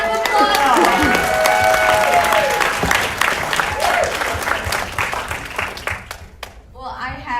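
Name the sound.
audience applause at film Q&A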